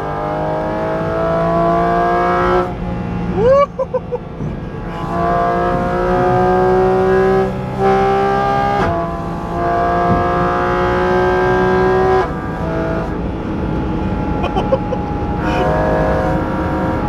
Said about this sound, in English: so I just went for the ride of my life in a GT4RS Y-Stock